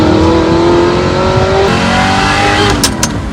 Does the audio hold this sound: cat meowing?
no